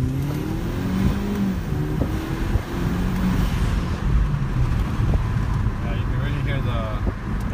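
A 2014 Kia Optima SX Turbo fitted with an aftermarket intake pulls hard under acceleration, its engine note rising and droning loud and close with some wind noise; no one speaks during the run.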